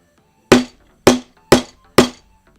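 Hammering during a Voron V0.1 3D printer build: four sharp, loud, close metallic strikes spaced about half a second apart, each ringing briefly, with no talk.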